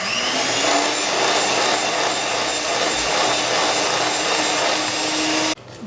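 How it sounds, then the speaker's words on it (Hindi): An electric mixer beats a powdered sugar mixture for nankhatai at medium speed, a steady loud whirring drone that runs unbroken for several seconds and then cuts off abruptly near the end. "इसको मीडियम पे रख के आपने बीट करना है।"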